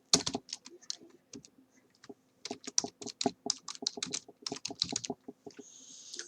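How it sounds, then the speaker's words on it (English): Fingers tap quickly on a computer keyboard in quiet bursts of crisp, close keystrokes with short pauses between words. "So just simply type the country name in double quotes."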